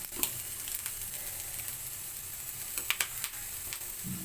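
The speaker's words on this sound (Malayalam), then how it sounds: "നമുക്ക് കുറച്ച് അതിലേക്ക് ഉള്ളി ഇടാം രണ്ട് വേപ്പിലയും കൂടി ഇടാം" Onion and curry leaves fry in a pan with a steady, close sizzle, broken by a few sharper pops and crackles near the end. No voices.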